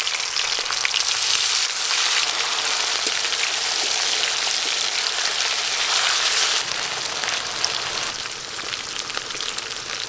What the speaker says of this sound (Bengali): শুধু চিকেনের পিসগুলো দিয়ে ভালো করে ভেজে নেব ছাকা তেলে